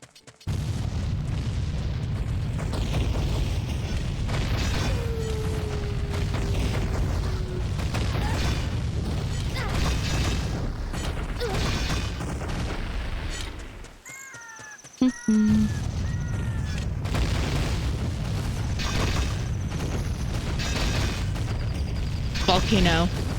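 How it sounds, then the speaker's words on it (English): A volcano on Death Mountain in a video game erupts with one sharp, loud boom that follows a brief near-silent dip, set within continuous game music and effects while a person talks. "Volcano."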